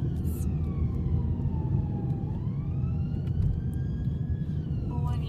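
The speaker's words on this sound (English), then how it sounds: "sirens. Oh, I need to get somewhere that I can pull over." Emergency sirens rise and fall faintly in the distance over steady road rumble inside a moving car.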